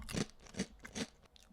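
Someone bites into and chews a crisp Wisps Asiago Pepperjack cheese snack, three close, dry crunches in quick succession, fairly quiet with no talk.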